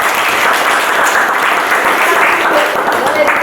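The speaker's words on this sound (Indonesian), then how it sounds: "Oke, kita beri aplaus." A classroom group applauds together in steady, dense clapping that holds loud and even throughout, close and filling the room.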